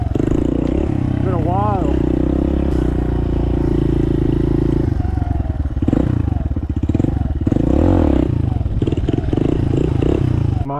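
A Suzuki DR 200 big-bore motorcycle engine turns over and runs with a loud, rough idle and uneven revving bursts close by, while someone talks briefly over it.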